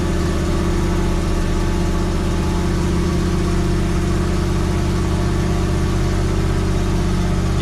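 Camaro V8 held at a steady, throbbing idle with the choke held, loud and close, a constant low rumble with no talk over it.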